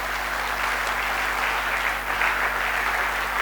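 A church congregation bursts into steady, loud applause acclaiming the Lord, a dense wash of clapping hands filling the hall for several seconds with no one speaking over it.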